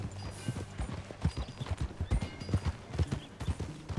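Horse hooves clip-clop in a steady walking rhythm in Red Dead Redemption 2, close and clear, with a faint whinny in the mix and no talk over them.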